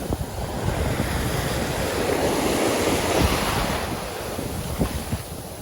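Steady rush of ocean surf on a beach in Barcelona in December, continuous and close, with heavy wind noise buffeting the microphone.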